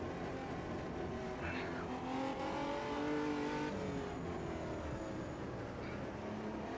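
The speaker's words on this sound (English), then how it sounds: "Let you hear what this big old motor sounds like." Omega Brazilian Stock Car engine in the racing game Automobilista 2 drones steadily with rising and falling revs and gear changes, a continuous mid-level roar with faint tire noise.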